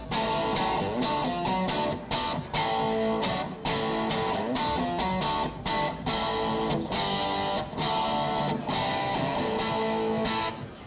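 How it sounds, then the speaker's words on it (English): Yamaha amp modeling with the master at half and gain cranked full, preamp tubes overdriving at low gain: a thick, mildly distorted electric guitar riff with steady strummed chords and rhythmic breaks, loud and alone. "So that's with the preamp tubes overdriving"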